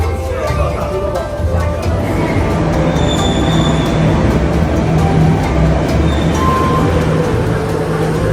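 Metro train at a busy Beijing station, a loud continuous rumble of rolling carriages with faint high wheel squeal and station bustle filling the whole stretch.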